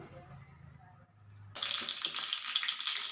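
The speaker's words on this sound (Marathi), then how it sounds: "फोडणीसाठी मोहरी घेऊया वन फोर टीस्पून" Mustard seeds dropped into hot oil for tempering burst into a sudden steady sizzle halfway through, close and moderately loud after a quiet start, with no talk.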